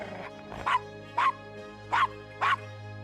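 A dog barks in the point-and-click adventure game Gabriel Knight: Sins of the Fathers 20th Anniversary Edition, giving four short evenly spaced woofs over a sustained music bed.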